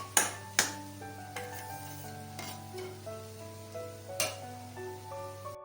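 Masala filling for matar samosa cooking in a pan, with soft sizzling under a steady hum and several sharp clinks of a spoon stirring against the pan.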